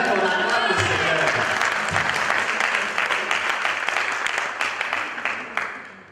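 A church congregation bursts into sustained applause to acclaim the Lord, dense and loud clapping from a large crowd throughout, fading slightly at the end.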